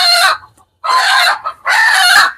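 A hand-held chicken on a poultry farm gives three loud, close squawking clucks in quick succession, separated by brief silences.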